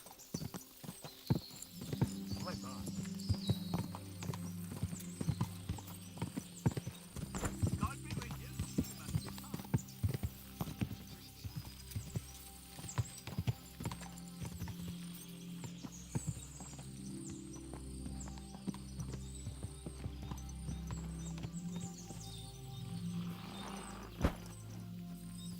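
Horse hooves clip-clop steadily on the ground in the medieval game Kingdom Come Deliverance II, with an occasional neigh and snort, close and clear amid low ambient sound and brief voice.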